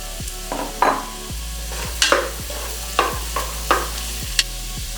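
Red onion, carrots and celery sautéing in a pan for beef borscht, an even sizzle under regular spatula strokes that land roughly once a second, close and clear with no voices.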